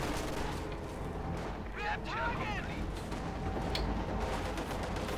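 A Pak 40 anti-tank gun fires during a Company of Heroes 2 match with Soviet T-34 tanks and German units nearby. Booming shots and rumbling battle noise come through at moderate distance, with a commentator's voice running underneath.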